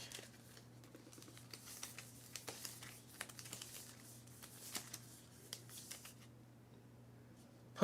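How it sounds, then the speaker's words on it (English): Gear cards for the Exoterra card game being shuffled into a deck, a long run of soft, rapid card flicks and riffles over a low steady hum, with no speech. "Grab 2 of my tactics, of my gear cards. 1, 2. And shuffle them into my deck."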